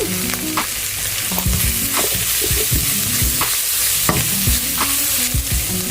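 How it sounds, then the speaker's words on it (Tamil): Cluster beans sizzle and fry in a hot pan, with repeated scraping and stirring knocks from a utensil throughout. "கொத்தரங்காய் நல்லா வதங்கிறது நல்லது தான்"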